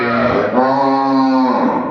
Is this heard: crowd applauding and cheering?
no